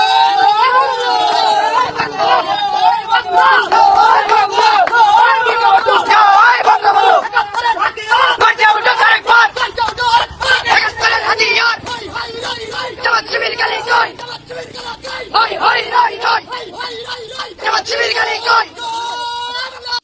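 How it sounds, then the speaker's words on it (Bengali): Student league supporters chant political slogans in unison after an election win, a large crowd yelling rhythmically and loudly, with continuous massed voices throughout. "তার কর্মী সমর্থকেরা সেখানে তো সব ছাত্রলীগের ছেলেপেলে স্লোগান দিয়েছে। স্লোগানটা একটু শুনুন।"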